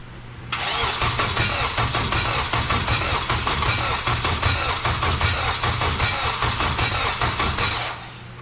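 A car engine cranking over after a starter job on a 1UZ V8, a loud, steady, continuous churn close by that runs for several seconds before cutting off.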